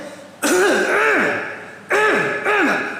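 Harsh throat clearing and rough coughing up close, two strained bursts with a pause between them, with no other sounds.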